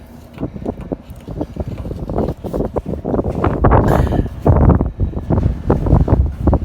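Gusts of wind buffet the microphone in rough, rumbling bursts that build and swell throughout, loud and close, while working on a 1997 International 9200 truck.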